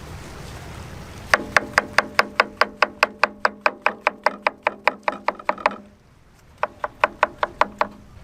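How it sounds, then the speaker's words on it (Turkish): Rapid, steady knife chops through mushrooms on a board, about four per second, crisp and close, pausing briefly before a shorter run of chopping resumes. "Mantarları doğrayarak başlıyoruz."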